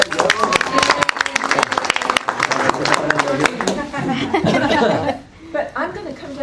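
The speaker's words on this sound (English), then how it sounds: "Let's give her a round of applause" An audience at a city council meeting applauds the city auditor, a burst of clapping with some chuckles and talk mixed in, fading out near the end as speech continues.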